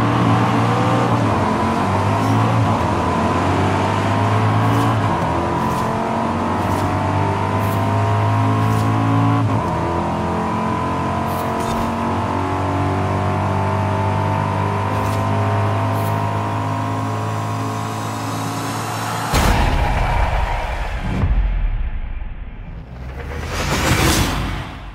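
Racing car engines from a Chevrolet C8 Corvette and rival cars, including a Lamborghini and an Audi, in the video game Forza Horizon 5 drone steadily with rising revs over a long stretch, then break into whooshing passes and sharp revving near the end.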